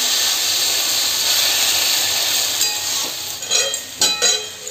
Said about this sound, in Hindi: और इधर बैगन भून रहा है